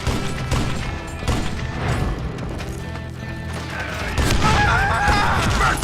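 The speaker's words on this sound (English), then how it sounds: "Just shoot him!" Gunfire from Call of Juarez: Gunslinger, a dense run of shots and impacts in a busy, loud game mix with music and other effects, with the firing continuing throughout.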